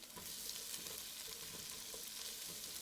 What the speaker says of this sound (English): I'm going to stir it around a little bit.